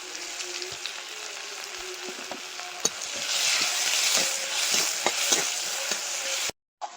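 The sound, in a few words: bay leaves, five-spice and crushed garlic sizzling in hot oil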